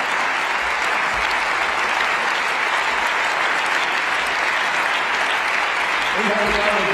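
Sustained applause fills a session of the German Bundestag during a debate on Russia and Ukraine, steady dense clapping throughout, with a voice starting to speak near the end.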